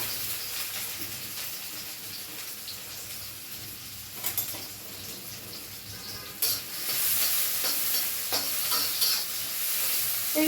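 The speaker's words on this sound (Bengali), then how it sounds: "একবারে দিয়ে আমি শাকটা বসা দিব।" Leafy greens (shaak) cook in a pot on a home stove, giving a steady broadband sizzle and hiss with occasional stirring scrapes, loud and close throughout with no talking.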